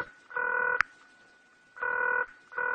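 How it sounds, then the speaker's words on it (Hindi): Touch-tone telephone keypad dialing, with three long steady DTMF tones separated by pauses and a brief sharp click between the first two, close and alone. "मैं उन्हें फोन करता हूँ"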